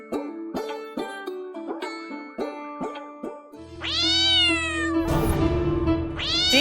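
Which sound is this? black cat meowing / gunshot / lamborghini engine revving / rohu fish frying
black cat meowing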